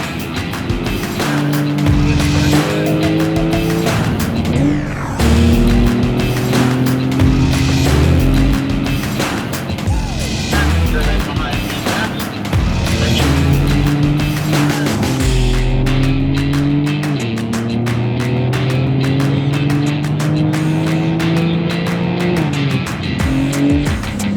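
Porsche cars lap a race track, engines rising and falling in pitch as they accelerate and shift, with repeated passes and tire squeal, loud and continuous with cars close by.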